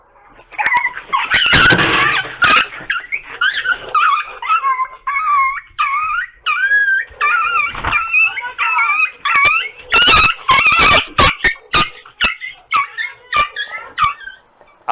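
A small dog that has just escaped an eagle's talons whimpers, yips and howls close by in rapid, wavering cries, loud and nearly continuous, with a few sharp knocks mixed in and no talking.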